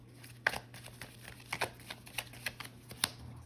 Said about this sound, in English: I'll give it a little shuffle.